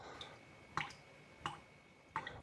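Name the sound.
water dripping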